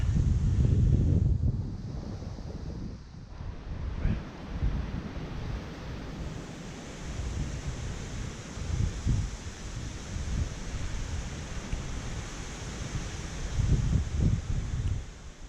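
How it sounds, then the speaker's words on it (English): Strong gusty wind buffets the microphone outdoors, a loud low roar rising and falling in bursts over a hissing background. "It's really windy"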